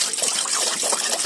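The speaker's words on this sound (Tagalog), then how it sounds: "so lagyan muna natin ng tubig" Water pours steadily from a container into a pot of sweet potato leaves, a close, bright continuous splashing trickle lasting a moment.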